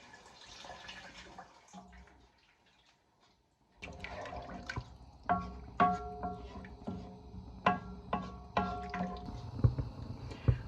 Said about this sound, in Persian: در اینجا آب رو به سوپمون اضافه میکنیم